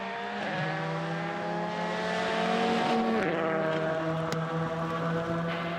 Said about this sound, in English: As the rain gets heavier, the standing water on the road causes the car to aquaplane, Hunt using all his skill to keep on track.